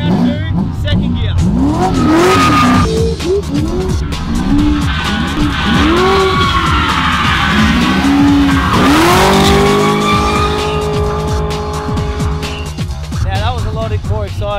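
An HSV GTO coupe does a second-gear burnout, the engine revving hard in rising and falling surges over sustained loud tire squeal and skidding, with a voice talking over the noise.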